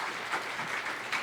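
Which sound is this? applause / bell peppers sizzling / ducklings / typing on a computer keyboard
applause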